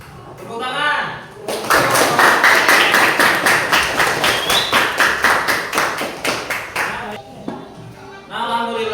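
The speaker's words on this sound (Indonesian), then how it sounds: "Tepuk tangan." A classroom of students claps hands in unison, a quick regular series of sharp claps lasting several seconds before stopping, with voices heard briefly before and after.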